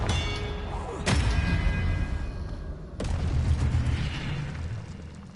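Confringo fire-spell blasts in the game Hogwarts Legacy: two sharp booming bursts about two seconds apart, each followed by a rumbling tail over dense battle noise.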